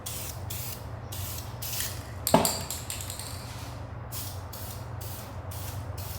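Aerosol spray can laying a first black coat on masked rear parts of a 2024 Mustang, giving repeated loud hissing bursts of about half a second close by, broken by a short clatter midway, with no talk.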